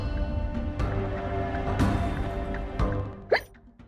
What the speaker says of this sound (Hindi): हिचकी है? अचानक ही आती है?